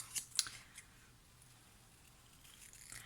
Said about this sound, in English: It's much easier when you manoeuvre the cardstock rather than the scissors.